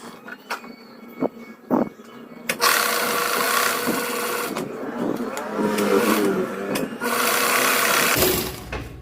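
A sewing machine runs a circular seam along a curved skirt hem, starting after a few handling clicks and then whirring steadily and close for several seconds before slowing to a stop.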